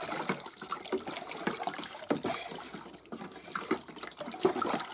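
About 300 grams of citric acid is stirred into water for a rust-removal bath, giving a continuous sloshing, swirling churn of liquid, close and moderately loud with small splashes throughout.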